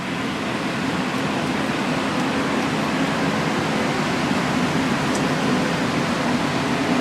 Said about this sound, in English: now there are industrial-sized dehumidifiers that are keeping this place dry so that the concrete dries